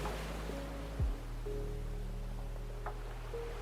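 Ocean waves wash in a steady, soft hiss beneath sustained calm musical tones, with no sharp breaks and no voices.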